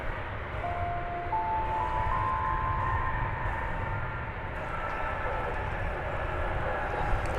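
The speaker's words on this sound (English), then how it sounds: "So there should be time for this one for that to clear the runway and for this one to land" An airliner lands at DFW Airport: a steady, loud jet roar with broad rushing noise and faint whining tones throughout, continuous and fairly close.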